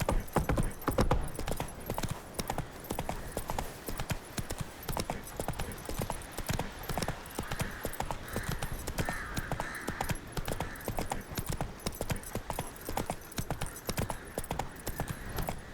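Hooves of the horse Roach in The Witcher 3 beat out a steady, brisk trotting clip-clop, close and fairly quiet, with continuous rhythmic thuds over soft ambient background.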